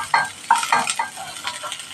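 Half an onion and a few garlic cloves fry in a pan for Mangalore-style chicken, stirred with a utensil in close, irregular scraping strokes over a soft sizzle, with no talking.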